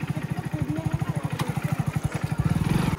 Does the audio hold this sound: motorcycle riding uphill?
yes